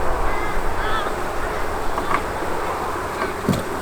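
Dense buzzing of many bees fills the air, a steady droning swarm close by with a few louder passes.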